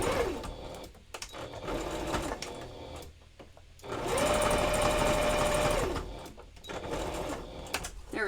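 A sewing machine stitches back over a seam on a fabric dragon tail in bursts of steady, close mechanical whirring, with short pauses between runs and a longer burst in the middle.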